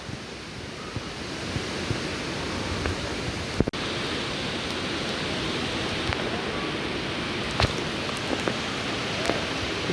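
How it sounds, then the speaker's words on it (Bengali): The Langlok waterfall rushes in a continuous broad roar of falling water, steady and fairly loud throughout, with a few brief clicks and knocks on top and no voices. "এখান থেকে ঝর্ণার সাউন্ড শোনা যাচ্ছে"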